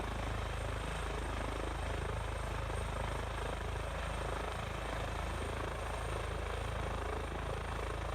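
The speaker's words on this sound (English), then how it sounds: "We will lift the helicopter up, and then we'll go into a hover mode." An EC145 air ambulance helicopter in Microsoft Flight Simulator lifts into a hover, its rotor and turbine giving a loud, steady, unbroken whine and drone with no voices.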